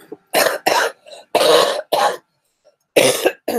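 A presenter, sounding unwell, lets out a run of loud, close coughs in short bursts separated by brief pauses, about six in all, with no talking between them.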